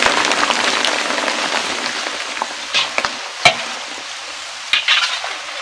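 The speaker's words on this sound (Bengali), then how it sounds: "এই যে কাঁচা পাঁপড় এগুলো এইভাবে তেলের দেখো সুন্দর ভাজা হচ্ছে" Raw papad frying in hot oil gives a steady, crackling sizzle with occasional louder pops and bursts, heard close and alone without any voices.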